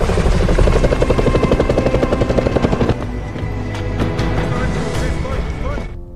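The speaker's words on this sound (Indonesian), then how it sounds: "rumah sakit tersebut pun langsung mengirimkan helikopternya ke sana" Helicopter in an action film scene, a loud rhythmic rotor thump churning steadily under a dense score, easing somewhat halfway through as other effects and mixed sound carry on.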